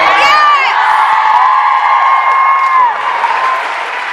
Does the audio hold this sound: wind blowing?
no